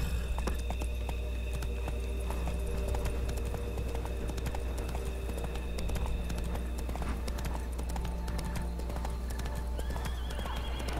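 A horse galloping in the video game The Witcher 3: Wild Hunt, with steady, rapid hoofbeats clopping throughout at close range and a whinny, set over a low ambient drone.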